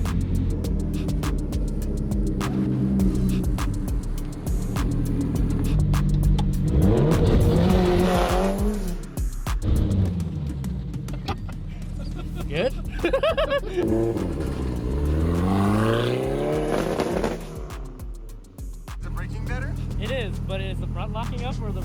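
A car engine revving and accelerating as it is driven, loud and continuous with rising and falling pitch sweeps, while people talk over it.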